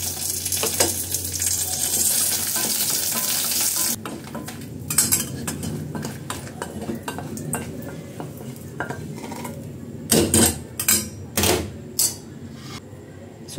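Dried red chillies tossed into a little hot oil in a pan for sundakkai (turkey berry) chutney, with a steady sizzle at first, then scraping, stirring and clinks of a metal spoon against the pan.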